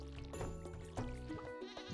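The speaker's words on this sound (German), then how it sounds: "Hallo, ihr Schafe." Sheep bleat in Stardew Valley, several short wavering calls overlapping over a soft, continuous farm background with music-like tones, fairly quiet throughout.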